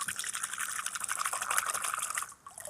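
Water pours steadily into a cooking pot for a few seconds in a home kitchen, a bright splashing fill that stops abruptly near the end.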